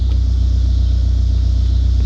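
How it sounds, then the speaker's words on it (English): Rebuilt DSM car engine idling smoothly, a loud, close, steady low rumble with an even pulsing rhythm and no talking. "I am shocked at how smooth this engine sounds"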